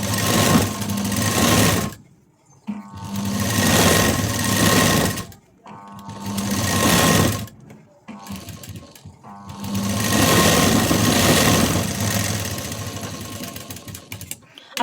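A sewing machine runs a full line of stitching along a blouse seam, loud and close, in four bursts of steady whirring separated by short pauses.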